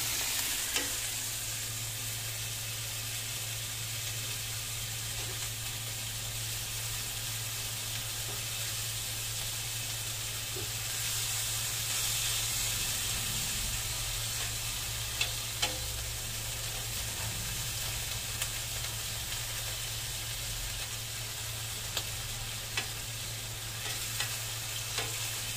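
Ground pork frying in hot oil in a pan, a continuous loud hissing sizzle with scattered crackles and occasional utensil taps, steady and close over a low background hum, no talking.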